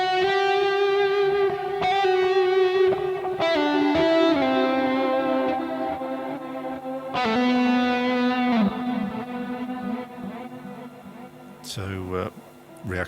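Electric guitar rings out with sustained chords and single notes drenched in delay repeats and a shimmering reverb tail, clean and close, with a sharp burst of effects near the end.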